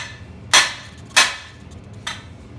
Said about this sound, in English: keep hitting uphill from where it's sitting on the anvil.